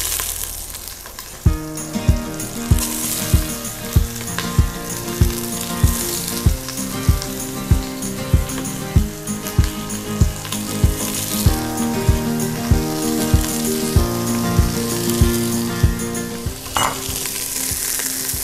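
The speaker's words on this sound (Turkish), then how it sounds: "Hafif biraz yağ ekledim. Ve sırasıyla sebzelerimi ekliyorum." Vegetables sizzle loudly in a little hot oil in a pot for beef rib stew, a dense, constant frying hiss close by, punctuated by regular rhythmic knocks of a spoon roughly twice a second, with no talking.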